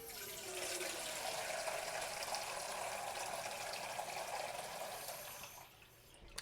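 Tap water running steadily into a pot in a home kitchen, a faint continuous gushing stream that thins out and stops near the end.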